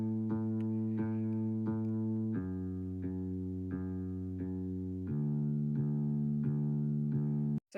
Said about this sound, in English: The third thing I added was a bass line, and I did this through MIDI